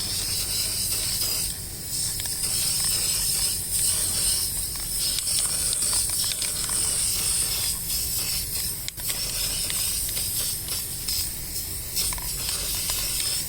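A spray paint can laying a final coat on a car wheel rim, a continuous close hiss that runs unbroken for over ten seconds with slight rattles and handling noise underneath.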